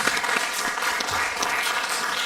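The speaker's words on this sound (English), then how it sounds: "let's go ahead and give him a round of applause" An audience claps and cheers in a round of applause at a wrestling send-off event, a dense, steady burst that lasts a couple of seconds.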